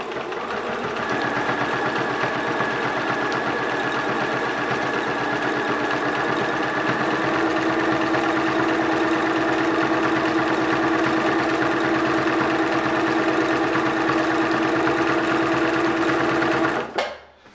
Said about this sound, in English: let's give this a whirl. I'm going to go on full power. Get my foot pedal position.